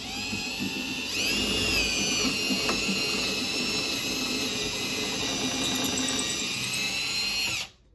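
Power drill boring a pilot hole for cabinet barn door hardware, a close, loud steady whine that rises as it bites, holds for several seconds, then cuts off.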